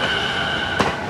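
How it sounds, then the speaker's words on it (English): Japanese train pulling out of a station, a steady electric buzz and hum running throughout with a brief louder rush of noise near the end, no voices. "Perhaps I'll let this train leave because it's kind of just buzzing."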